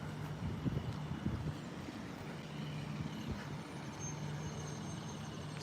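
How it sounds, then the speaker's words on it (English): A heavy garbage truck's engine rumbles low and steady as it passes, with a brief hiss partway through. "Here comes the dim headlight garbage truck again."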